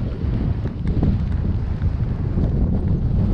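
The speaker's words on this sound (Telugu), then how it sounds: "ఫుల్ గాలి వస్తుంది" Strong desert wind in Jaisalmer buffets the microphone in a steady, loud low roar with continual gusty rumble, no voices over it.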